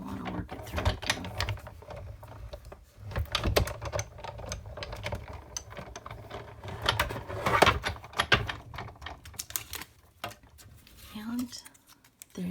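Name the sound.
cranking Tim Holtz Sizzix Sidekick die-cutting machine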